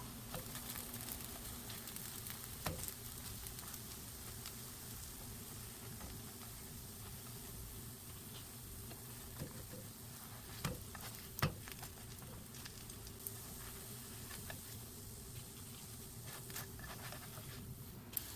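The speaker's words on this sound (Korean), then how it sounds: "뒤집어가면서 앞뒤로 노릇노릇하게 구워냅니다" Pumpkin leaf pancakes pan-frying with a soft, steady sizzle, quiet and continuous, broken by a few small taps and clinks near the end.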